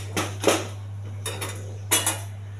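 A bowl set out for pongal tempering: light clinks and clatters of dishes and utensils in three short bursts, close by, over a steady low hum with no talk.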